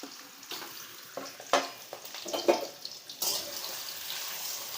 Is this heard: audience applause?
no